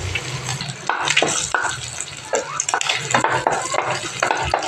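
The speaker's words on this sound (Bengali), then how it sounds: "ডিমটাকে ভালোভাবে মাংসের সাথে নেড়ে চেড়ে নিলাম" Egg and meat fried rice is stirred in a pan, with repeated scraping and clattering of a spatula against metal over a light sizzle, close and loud, without talk.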